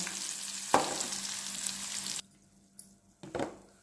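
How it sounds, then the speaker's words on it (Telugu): Garlic and dried red chillies fry in hot oil for a steady loud sizzle that cuts off abruptly, then a few brief clinks and a short hiss of stirring. "పోపు అంతా పూర్తిగా మాడనిద్దాం."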